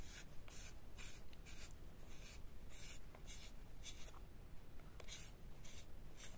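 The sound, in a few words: sharpening a bead-picking pencil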